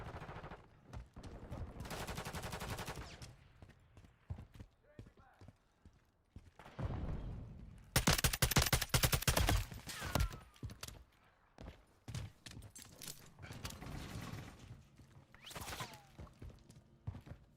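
Bursts of automatic gunfire crackle through a video game firefight, loud volleys alternating with quieter pauses and scattered single shots, mixed with radio-style voices.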